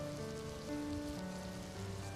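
Rain falls steadily as a soft, continuous wash at low volume, with faint sustained musical tones layered underneath as ambience.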